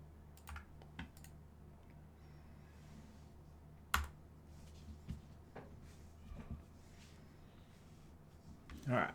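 A computer keyboard being typed on in a few scattered bursts and single keystrokes over a low steady hum, close and fairly quiet, ending with a louder clack.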